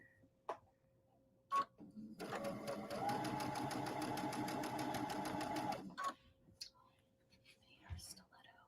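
A sewing machine stitches along a marked line in a steady, rapid mechanical whir lasting a few seconds, with faint whispered talk and small handling sounds before and after.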